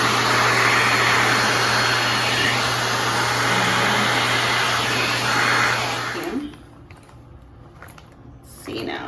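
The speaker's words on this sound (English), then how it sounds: "I'm gonna try to vacuum it off first and then wipe off what's left." Vacuum cleaner running loud and steady while cleaning a makeup bag in a bathroom, cutting off after about six seconds and leaving quiet room sound.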